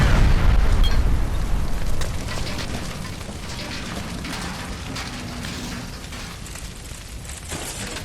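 Gas line explosion inside an electroplating plant in L.A. Noire: a loud boom at the start that decays into a rumbling, crackling roar with debris, settling to a steadier noisy wash.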